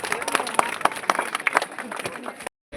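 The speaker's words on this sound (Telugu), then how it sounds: "గట్టిగా క్లాప్స్ కొట్టి పిల్లలు గట్టిగా క్లాప్స్ కొట్టి వారికి అర్థం తెలుపుదాం" Children clap loudly and unevenly at an outdoor village rangoli competition, scattered claps mixed with crowd voices before a brief silent cut.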